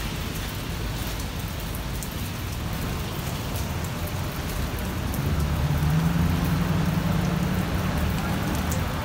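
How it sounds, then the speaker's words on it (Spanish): Steady rain pours over a building construction site, a dense even hiss of drops on surfaces that continues unbroken throughout, with a low rumbling hum joining midway. "Pero parece que va a estar lloviendo todo el día"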